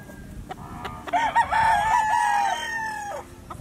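Gamefowl stag, a Boston Roundhead rooster, crows once loudly and close, a long drawn-out call with a few clucks and other farm fowl faintly around it.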